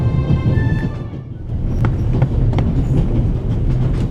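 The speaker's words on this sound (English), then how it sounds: "The noise on this train is driving me crazy" A video game train rattles along the rails with loud, continuous rolling and clickety-clack thumps, steady throughout and close, with no speech.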